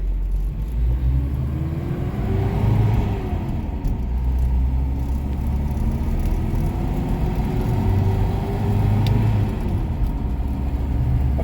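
Toyota 4x4 pickup truck with a 22RE engine driving along, its steady engine drone rising and falling slightly through the gears. A constant road rumble sits underneath, heard from inside the cab with no talking.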